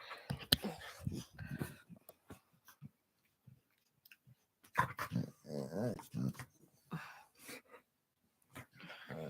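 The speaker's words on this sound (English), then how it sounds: "Watch that small dog." A small dog growls and grumbles in bursts, mixed with snuffling and chewing noises at close range, irregular and fairly quiet with pauses between.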